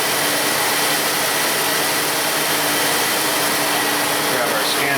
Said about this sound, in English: Feels a little rough, definitely got a cylinder misfiring.